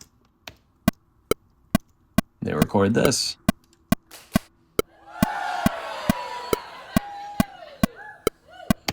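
Group hand claps recorded in a studio for a pop song, landing as sharp regular hits at a steady beat over music, with a burst of voices and laughter in between.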